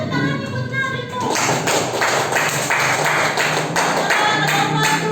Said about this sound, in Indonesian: Coba mana tepuk tangannya